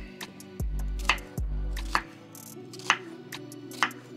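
Knife cutting vegetables into roughly 2–3 cm cubes on a board for a lamb soup, a few sharp, separate chops at an uneven pace, close and fairly clear, with a low hum beneath.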